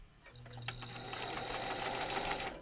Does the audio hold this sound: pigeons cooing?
no